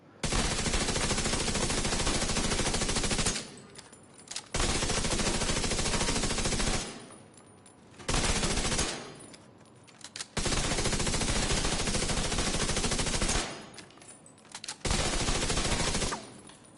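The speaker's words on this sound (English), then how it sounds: "If I was to use an SMG to get those stacks up, watch this." SMG gunfire in the video game The Division 2, loud sustained automatic bursts of several seconds each, four long strings separated by brief pauses, alone without talk.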